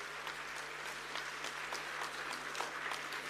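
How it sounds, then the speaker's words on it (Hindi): Steady applause from a university ceremony audience at an agricultural and technology university, a soft but dense wash of many hands clapping continuously, distant-sounding with a low steady hum beneath. "आपको ताली थोड़ी और जोर से मारनी पड़ेगी, क्योंकि काम इतना अच्छा किया है।"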